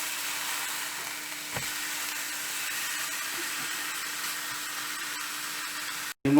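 Steak stuffed with oysters frying in a pan, a steady, even sizzle with a faint hum underneath, close and moderate in level, one soft knock near the start and a brief cut near the end.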